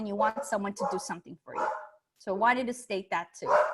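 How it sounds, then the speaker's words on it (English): A dog barks a couple of times, briefly and off to the side, beneath a person speaking continuously throughout. "sorry about that dog"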